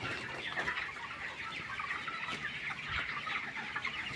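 Chickens on a poultry farm cluck in a steady, overlapping chorus on a rainy day. The bird calls run continuously and fairly close, with no talking heard.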